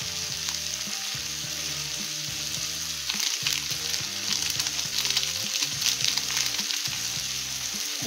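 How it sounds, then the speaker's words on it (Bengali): Tadka spice mix added to dal in a hot pan for an egg tadka: a steady close sizzle and fry with a bright hiss, plus irregular knocks and scrapes from stirring. "তড়কা মশলাটা আমি দিয়ে দেবো।"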